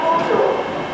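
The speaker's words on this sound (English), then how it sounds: "incoming now is a TransPennine Express Class 802" A TransPennine Express Class 802 train arrives at York station with a brief, loud, steady rumble and whine close by.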